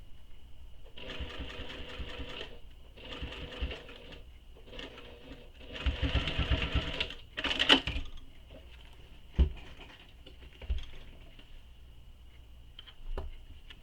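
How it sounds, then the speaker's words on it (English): A sewing machine top stitches a handbag seam in several bursts of steady whirring, separated by short pauses, with a loud final run and a few small clicks and handling sounds between passes. "top stitch this all the way down, this seam allowance"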